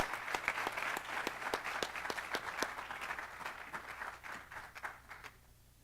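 A crowd at a high school student awards ceremony applauding steadily for several seconds, the clapping thinning out and fading toward the end.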